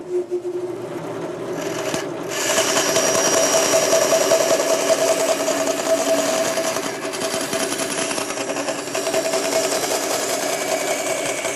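A bandsaw with a narrow blade about half an inch wide cuts through a workpiece in a machine shop, a steady loud whirring rasp that holds from about two seconds to the end, with no talk.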